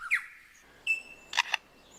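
A bird in a forest imitates a camera shutter with a short mechanical click burst, set among sharp whistled chirps against near silence.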